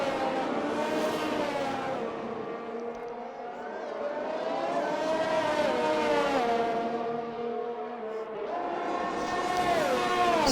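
Formula 1 race cars lapping Imola in a video game, engines droning and shifting pitch in rising and falling sweeps at a moderate, somewhat distant level with no other sounds.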